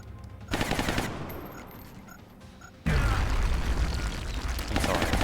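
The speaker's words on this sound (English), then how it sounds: "That's a grenade." A grenade blast in the XCOM: Long War strategy game, a heavy booming burst mid-clip after rattling gunfire, followed by a sustained loud rumble and crackle.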